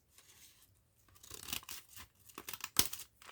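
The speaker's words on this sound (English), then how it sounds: "if I'm noticing some little snips I need to trim up, I will trim those" Paper-bag junk journal pages are trimmed close up with quick, crisp snips and rustles of paper, coming in short bursts with small pauses between cuts.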